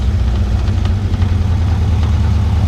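A Volkswagen beach buggy's small engine idles with a low, rough, steady rumble, close by and continuous.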